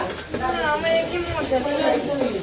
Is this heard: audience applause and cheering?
no